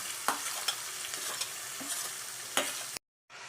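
Chopped onions hiss steadily as they fry in a pan, with several sharp stirring scrapes, close and clear. The sound cuts to silence briefly near the end and then resumes.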